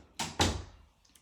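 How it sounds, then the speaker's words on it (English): A door is pushed shut in two quick heavy thuds close by, the second louder and ringing out briefly before a faint click. "But close the door."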